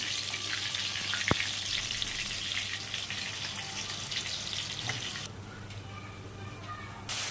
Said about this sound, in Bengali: ক্যাপসিকামগুলোকে হালকা ভেজে নেব